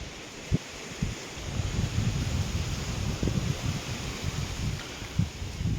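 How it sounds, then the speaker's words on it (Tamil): Steady wind blows and buffets the microphone, a rough rushing noise with occasional low thumps and no voices. "நல்ல காற்று வருது நண்பர்களே"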